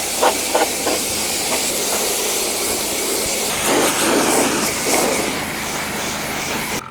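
Pressure washer hiss spraying water to rinse stuck-on dirt and sand off an off-road vehicle during mobile detailing, loud and steady with spray shifting in intensity as it moves across surfaces.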